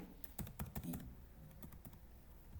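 Quick taps on a computer keyboard while code is entered, a short burst of rapid clicks then a few scattered keystrokes, faint and close with no talk.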